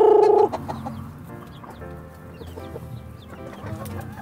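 Backyard chickens in a small home coop cluck and call close by, a loud burst at the start followed by a steady, busy run of overlapping clucks and chatter from several birds.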